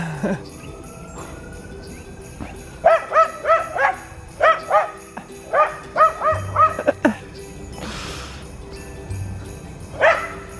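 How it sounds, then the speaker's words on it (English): A dog chases squirrels around a yard outdoors, letting out a run of sharp, fairly close barks in quick bursts, with pauses, a whimper-like yip and faint background sounds between. "I know I probably shouldn't let my dog bark"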